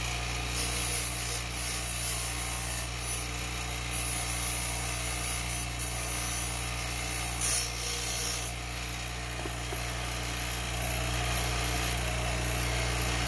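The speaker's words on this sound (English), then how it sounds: "so we're going to grind it down just a little bit more." A power grinder runs with a steady tonal whine while it grinds down a Tram 1174 GMRS antenna element. The grinding rasp rises and falls in short bursts, close and continuous.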